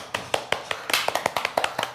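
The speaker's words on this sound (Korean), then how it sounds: "저만 박수 치네요" One person clapping alone, close and crisp, about a dozen sharp claps in a quick, slightly uneven rhythm after a Pilates exercise in a studio.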